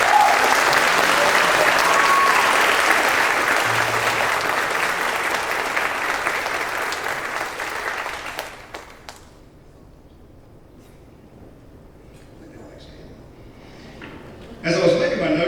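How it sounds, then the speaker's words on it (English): An audience at a high school spring concert gives the students a loud, dense round of applause that holds for several seconds, then fades to quiet room noise before a voice begins speaking. "Let's give all the students a big round of applause."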